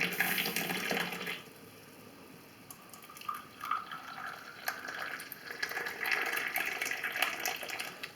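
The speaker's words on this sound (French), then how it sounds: "Pour servir le thé, toujours, il faut le servir de très haut." Tea poured from high up into a glass makes a splashing, trickling stream, fairly faint, with a brief gap before the flow resumes and grows busier.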